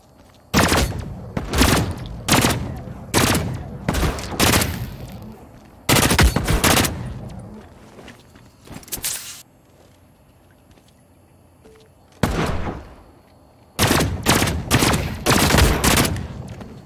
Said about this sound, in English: Is this guy still trying to shoot me?